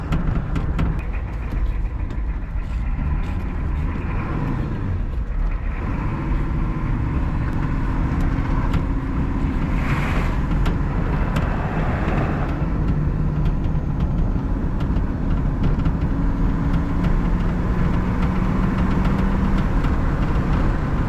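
A turbo 6.9 IDI diesel engine in a Ford runs steadily with a low, even rumble throughout, heard from inside the vehicle with no talking.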